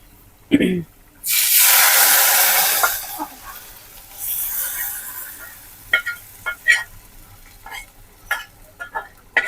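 Fried onions tipped into chicken in a hot pan for chicken kala bhuna set off a loud, bright sizzle lasting a couple of seconds, followed by a second sizzling swell and a run of scraping, clinking stirring strokes.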